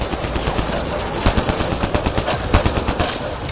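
Rapid, evenly spaced gunshots in the Mass Effect video game, a loud close burst of automatic fire with a steady rhythm running through the whole stretch.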